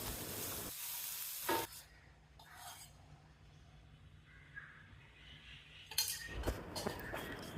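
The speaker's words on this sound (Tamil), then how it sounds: "சட்னி தாளிக்கிறதுக்கு கடுகு," Mustard seeds sizzle in hot oil while tempering a mixed vegetable chutney. A loud burst comes first, then a quieter crackle continues, with a spoon clinking and stirring against the pan near the end.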